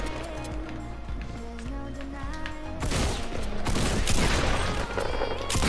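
Shotgun blasts in the Fortnite battle royale game, a burst of loud gunfire and booms dominating the second half over a busy layer of game music and effects.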